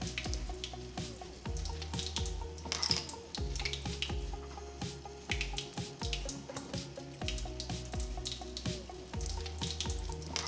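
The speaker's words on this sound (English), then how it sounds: "then you're gonna rinse in warm water and repeat until the water runs clear" Warm water runs from a tap while a makeup brush is rinsed beneath it, a steady splashing and trickling stream with irregular drips and spatters, close and moderately loud with no voices.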